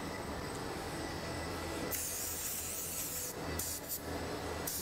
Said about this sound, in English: Sprayed them down with brake cleaner